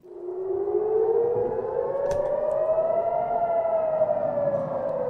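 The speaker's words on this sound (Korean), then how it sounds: "테라비브에는 공습 사이렌이 쉴 새 없이 울리고 있으며" An air raid siren wails alone in Tel Aviv during missile attacks, a long steady tone that swells up, holds and slowly bends, loud and unbroken for several seconds.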